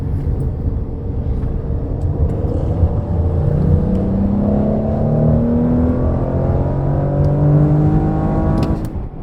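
An Audi S7 with a twin-turbo 2.9-litre V6 accelerates hard while chasing a Mustang GT, its engine note a steady loud drone that climbs in pitch through the gears for about nine seconds, with no talking.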